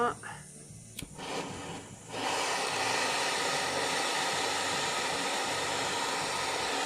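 A gas torch lights with a click and then roars with a steady hiss, heating a bracelet clasp for soldering, the broad rushing flame continuing loud and unbroken to the end.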